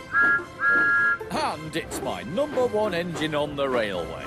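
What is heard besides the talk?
Thomas the Tank Engine toy train whistle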